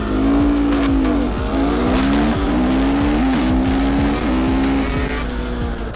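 A 450cc four-stroke and a 300cc two-stroke supermoto motorcycle drag racing, engines screaming loud and close as repeated rising gear pulls climb and drop through shifts over a continuous roar, with no talk.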